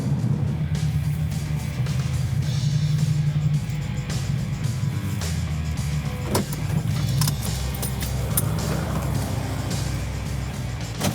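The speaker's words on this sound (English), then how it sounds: "This is the 1970 Dodge Challenger RT SE440 Magnum, one of 733 ever made." A 1970 Dodge Challenger R/T SE with a 440 Magnum V8 is driven, its low engine drone running steadily beneath cabin rattles and clicks, with occasional sharp transients and no clear talk.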